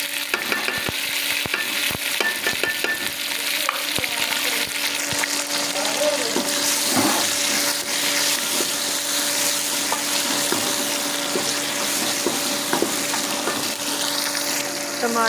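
Tomatoes frying in a pan with ginger garlic paste for a gourd (tori) curry, a steady close sizzle with stirring scrapes and occasional clinks throughout, no talking.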